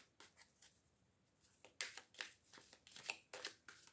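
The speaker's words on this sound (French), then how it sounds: "Je vais mélanger les cartes avec les dessins." Tarot cards with illustrated faces being shuffled by hand in a quiet room: a run of crisp, papery riffling bursts, faint at first and then louder and denser, close to the listener, with no talking.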